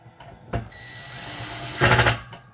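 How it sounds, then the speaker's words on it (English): A Ridgid impact driver backing screws out of a Sony SA-WM500 subwoofer: short bursts of whirring and rapid hammering, a brief hit near the start and a louder, longer rattling burst later, close and loud. "So I'm using this rigid impact driver."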